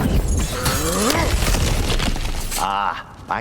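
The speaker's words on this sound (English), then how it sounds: "Back to smashing through things for fun and profit." Objects smashing and shattering in God of War Ragnarok, a dense, loud stretch of crashing debris and breaking, with a voice cutting in near the end.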